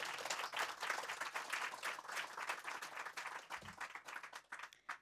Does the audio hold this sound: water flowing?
no